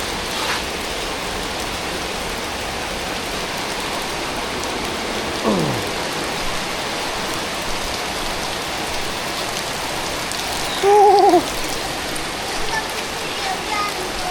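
Steady rain falls throughout, a dense even hiss of drops close by, with a couple of brief faint sounds rising over it midway.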